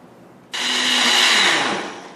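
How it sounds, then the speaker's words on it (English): A blender whirs loudly and steadily, puréeing peppers with water for enchilada sauce; the motor kicks on abruptly and runs for more than a second and a half with a thick, broadband roar, with no voices present. "put your peppers inside the blender and just add enough water each time to blend it up"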